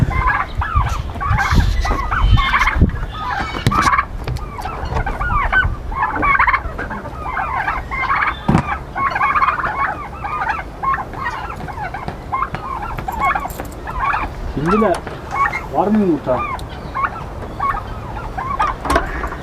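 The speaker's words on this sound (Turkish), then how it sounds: "Bu hindiler yavru galiba." Young turkeys gobble and chirp continuously in a busy, echoing coop, with overlapping calls and rustling at close range.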